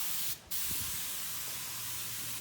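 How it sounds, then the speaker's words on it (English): A steady, continuous aerosol hiss sprays close by throughout, with only a brief dip in the middle. "Just put a nice film, nice spray pattern across"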